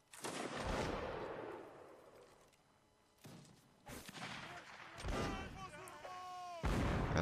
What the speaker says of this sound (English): As you can see, more cannon fire coming down.